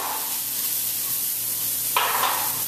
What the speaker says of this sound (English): we're just going to put the green peppers and the onions in there and let them start to saute